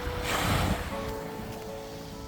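Sea water washes up on a beach with a loud rushing surge that fades into a softer, steady wash.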